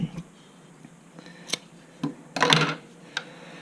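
Scissors snip through elastic lace fabric in a few separate cuts, with a denser burst of crisp cutting near the end, close and fairly quiet.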